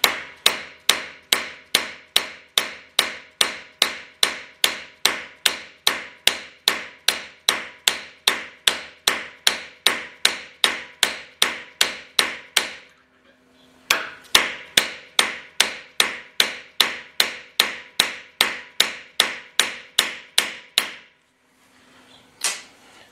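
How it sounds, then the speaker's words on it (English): A metal hammer strikes a small driver to drive an output shaft bushing into a Willys transfer case: steady, evenly spaced sharp metallic blows, one short pause, then another run of hits, close and loud. "I've got a little driver here and a metal hammer."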